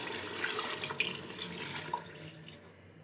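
Water poured from a tap or vessel into a pot of aloo gosht, a steady splashing stream that tapers off near the end, with no voices.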